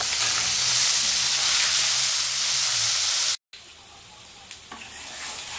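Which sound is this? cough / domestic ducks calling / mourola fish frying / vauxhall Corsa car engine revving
mourola fish frying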